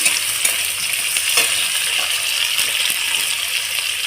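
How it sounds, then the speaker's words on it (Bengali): Onion frying in a pan, a steady bright sizzle with faint stirring scrapes and clicks throughout, no talking. "পেঁয়াজটা একটু বাদামি কালার হওয়ার অপেক্ষা করব দেখুন এইভাবে আমি"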